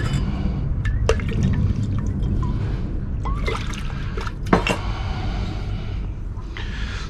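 Hot water pours and drips into a bucket while gold from electronic fingers is refined, a steady watery wash broken by scattered sharp drips and one louder splash near the end.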